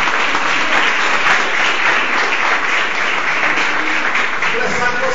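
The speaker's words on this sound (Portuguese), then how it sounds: "E eu queria que a igreja desse uma salva de palmas" Dense, sustained applause from a church congregation at a youth congress fills the space loudly and evenly, with voices faintly mixed in toward the end.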